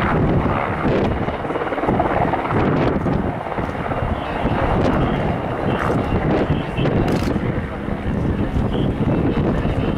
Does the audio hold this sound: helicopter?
yes